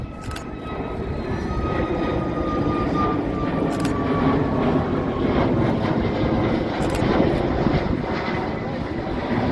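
A Boeing 737 MAX 9 goes around at Manchester Airport, its jet engines roaring in a steady, broad, loud rumble with a faint rising whine, heard from the ground without talk.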